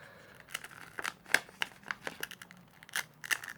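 Clear plastic packaging film is peeled and torn from a Ringke Fusion smoke phone case for a Galaxy S23 Ultra, giving a series of sharp crinkling rips and crackles, close up, with no talk.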